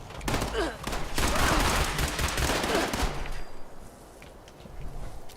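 Rapid bursts from a two-shot laser pistol in Fallout 76, dense crackling shots fired in quick succession for about three seconds, then tapering off into quieter scattered sounds.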